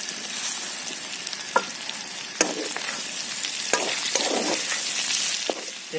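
Two large onions fry in rendered pork fat, making a steady, close sizzle punctuated by sharp clicks and scrapes of stirring.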